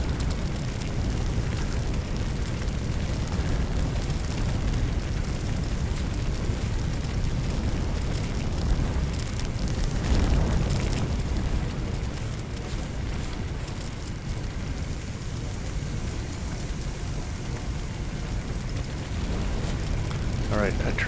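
Fire roars and crackles in the Firefighting Simulator video game, a steady loud broadband rush with rumbling low end that continues throughout, with people talking over it.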